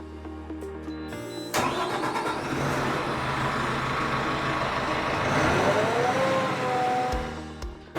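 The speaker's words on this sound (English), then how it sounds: "so over here we've got our generator, and this generator is attached to this truck." A truck-mounted generator powering a spray foam insulation rig starts up abruptly and settles into a loud, steady mid-pitched engine drone, with a slight pitch shift near the end.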